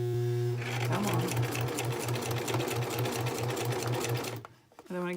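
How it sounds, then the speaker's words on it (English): A sewing machine runs steadily at close range, stitching through paper and bias tape with a fast, even mechanical chatter, stopping near the end before a brief restart. "I'm just kind of running my stitch, half on the paper, half on the bias tape on this smaller side."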